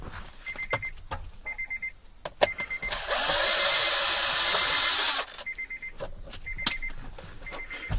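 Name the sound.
removing Phillips screws from Honda Odyssey steering column cover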